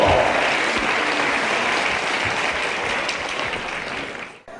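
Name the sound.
wrestling audience applauding the wrestlers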